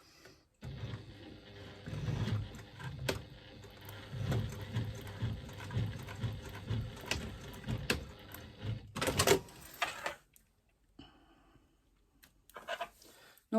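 A sewing machine stitches through thick layers of fabric on a bag strap, running in a steady near whirring burr with short stops and restarts, then falling quiet near the end.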